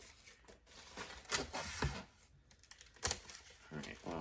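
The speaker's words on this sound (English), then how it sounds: "the noiseless tape isn't completely noiseless, but it certainly is a lot better than the non-noiseless packing tape" Packing tape, a quieter low-noise type, being pulled and pressed onto a shipping envelope, giving short crackly tearing and rustling bursts with a few sharp snaps, close and moderately loud.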